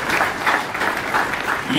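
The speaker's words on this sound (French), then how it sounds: "Sous vos applaudissements" An audience claps at a ceremony, a continuous dense patter of applause with swelling pulses, fairly loud and close, with voices faintly mixed in.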